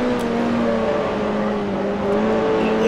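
A 1968 Formula 2 race car at Thruxton in the Grand Prix Legends video game, its engine held at a steady high-pitched drone as the throttle opens, loud and close with no talking.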